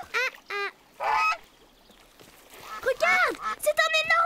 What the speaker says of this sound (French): Bing, c'est pas un canard, c'est une oie.